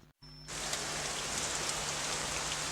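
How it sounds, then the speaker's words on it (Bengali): Heavy monsoon downpour used as a sound effect, starting abruptly after a brief silence and then holding as a dense, even, full rain hiss, no voices. "এখন বৃষ্টি পড়ছে মুষলধারে।"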